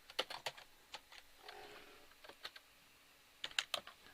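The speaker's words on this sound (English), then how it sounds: "So let's type the word bandits in here." Keys clatter on a computer keyboard as a word is typed, heard as quiet, close, irregular clicks in small clusters with short pauses between them and no voices.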